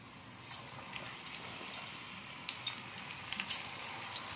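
Fenugreek leaf fritters frying in hot oil give a faint, steady sizzle with scattered soft pops and crackles, with no voices.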